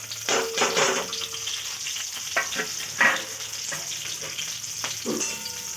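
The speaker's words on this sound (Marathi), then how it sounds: "याला थोडंसं फ्राय करायचं आहे, फक्त याचा कच्चा पण निघाला पाहिजे" Carrots, cabbage and green chilies frying in a pan for noodles, a continuous close sizzle with repeated stirring scrapes and knocks from a spoon, no talking.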